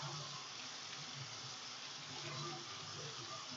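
Tap water runs steadily while hands are rinsed at a sink, an even splashing hiss filling the whole stretch at close range with no voices.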